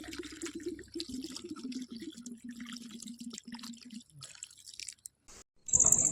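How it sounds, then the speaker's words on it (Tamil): Steady trickle of water pouring into a pot of goat head curry for about four seconds, followed by quieter rustling and a brief sharp clink near the end. "தேவையான தண்ணி ஊற்றிக்கிட்டாச்சு."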